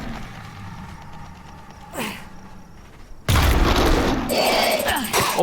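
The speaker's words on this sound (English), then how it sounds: "3 freaking frag grenades weren't able to pick this thing off?" Frag grenade blasts in the survival video game Dysmantle: a quiet ambient game scene, a whooshing sweep, then a loud booming explosion with a lingering rumble.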